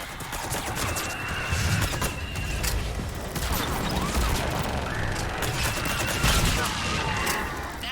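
Gunship missile fire in the Mass Effect 3 battle on Thessia, a run of dense, crackling blasts and impacts over steady battle rumble, loud and continuous for several seconds, with no voices over it.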